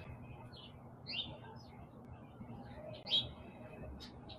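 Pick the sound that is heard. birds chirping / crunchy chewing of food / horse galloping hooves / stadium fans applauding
birds chirping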